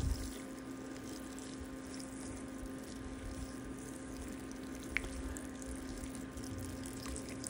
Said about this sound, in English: Grab my watering can. Just water in those seeds,